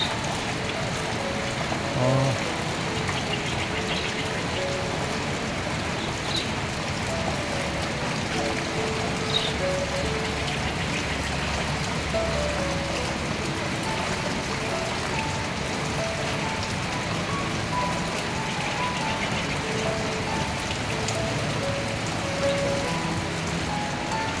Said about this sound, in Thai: วันนี้ฝนตกทั้งวัน ออกไปไหนไม่ได้เลยเนาะ